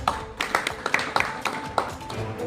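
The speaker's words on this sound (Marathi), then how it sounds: "त्याला टाळ्या वाजवाय" At a Farmers' Day gathering in a field, a small audience claps in scattered, uneven bursts, a handful of sharp, fairly close claps rather than full applause.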